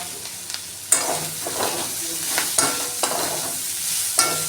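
Chopped green chilies and a large sliced onion fry together in a pan, giving a continuous sizzle with repeated scraping strokes and a few sharp spatula clacks, close and fairly loud.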